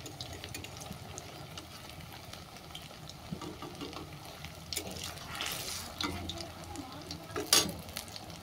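Pakoras frying crisp in a pan give a soft, steady sizzle of hot oil with faint stirring and scraping, low and close, with a brief louder clatter near the end.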